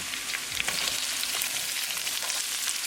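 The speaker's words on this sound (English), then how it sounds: "we're going to cook onion until they are nicely translucent" Onions fry in a pan with chili, ginger and garlic, giving a loud, dense, continuous sizzle close up, with no voices.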